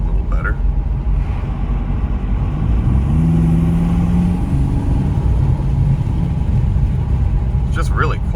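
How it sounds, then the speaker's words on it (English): A Toyota Supra 2.0 fitted with an aFe POWER Takeda exhaust rumbles heard from inside the cabin with a window cracked, a steady loud drone with a brief rise in engine pitch, while a person talks throughout. "if we crack the window here, so you can hear the exhaust a little better"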